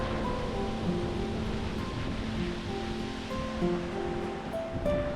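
Ocean waves surge against rocks at Sorrento Ocean Beach, throwing white water spray upward, a continuous broad wash of surf with gusts of wind across the microphone.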